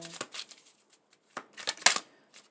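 Tarot cards being shuffled by hand in a series of short riffling bursts, some soft and some sharper, with brief pauses between them and no talking.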